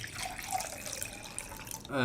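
Distilled water runs into a container in a steady, close trickle like a tap filling a vessel, with a brief louder splash at the end.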